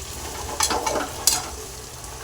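Chicken curry sizzles steadily in a hot wok, with a couple of brief louder bursts of crackle as it is stirred and no voices present.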